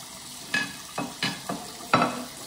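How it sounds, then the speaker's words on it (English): A child washes dishes at a sink, making four separate clattering and splashing knocks spaced a little apart, close to the listener and of moderate loudness. No speech. "Cleaning the dishes."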